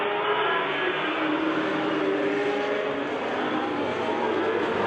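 Vintage Formula racing car engines, including a 1976 Wolf WR6, drone together on a pace lap in a steady, loud, sustained roar that holds evenly throughout, with no voices.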